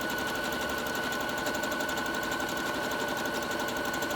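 A Bernette Sew Go 7 computerized sewing machine runs a stitch pattern, a steady, fast, even mechanical whirring and needle chatter with a constant motor hum, close and uninterrupted.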